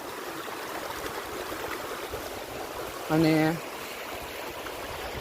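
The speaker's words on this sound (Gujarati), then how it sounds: "તો જુઓ આ આપણી નદીનું પાણી ચાલ્યું જાય છે।" River water flows steadily in a continuous rushing wash close by, with someone talking over it and a brief tonal sound in the middle.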